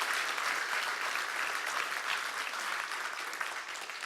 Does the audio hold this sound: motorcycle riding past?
no